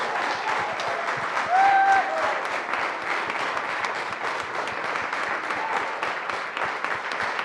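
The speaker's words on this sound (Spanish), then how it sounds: "Dele un fuerte aplauso a la palabra de Dios." A church congregation applauding steadily and loudly during a sermon, dense clapping with a brief shout or whistle rising above it early on.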